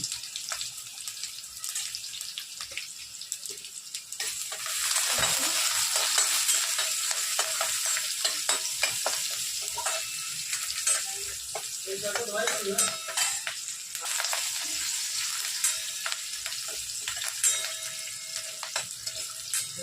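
Curry leaves, asafoetida and onion fry in a pan, a quiet hiss that swells into a louder, continuous sizzle partway through, with a few splashy, watery rustles and scraping stirs mixed in.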